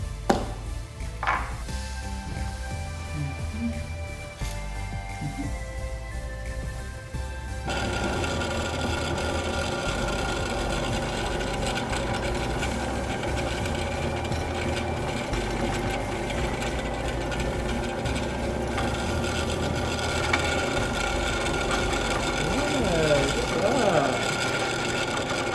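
A Central Machinery drill press starts and runs steadily, a continuous motor hum and whir with faint drilling noise over about twenty seconds after a quieter start with small clicks.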